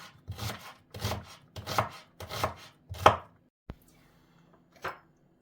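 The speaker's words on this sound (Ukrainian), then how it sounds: "ріжемо її на квадратики. На мілкенькі-мілкенькі квадратики." A knife dices onion into small squares on a board, giving about six close, chunky chopping strokes in an uneven rhythm, followed by a brief sharp tap and quieter scraping, with no talking.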